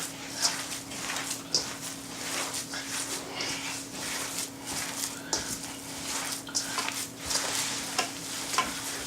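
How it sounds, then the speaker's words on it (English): Burger mixture with mayo is mixed by hand in a bowl, giving soft, close squelching and stirring with occasional light clinks, quiet and continuous. "And I'm going to use my hands and I'm going to mix it in."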